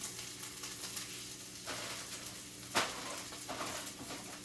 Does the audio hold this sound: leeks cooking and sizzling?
yes